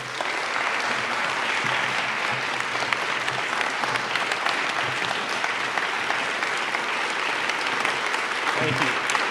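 An audience at a poet laureate induction ceremony gives Governor Cooper sustained, dense applause that fills the room evenly for the whole stretch. Faint voices sit underneath it.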